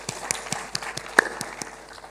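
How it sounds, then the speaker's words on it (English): A round of applause at an ICT directors forum, faint, sparse claps spaced out in the room after a presentation. "Another round of applause for Kras."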